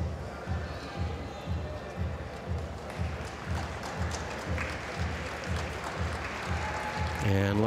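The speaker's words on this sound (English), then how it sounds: "And lots of applause as she heads backstage" Spectators at the Doha Epee Grand Prix fencing venue applaud the women's champion in a steady rhythmic clapping pulse, moderately loud and crowd-wide, with no talk over it.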